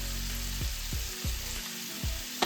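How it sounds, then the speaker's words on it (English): Shrimp cooking in butter in a pan over lowered heat make a steady, close frying sizzle, broken by a few soft scraping bumps as they are stirred. "we're going to add some butter to that. And you want to cook these shrimps."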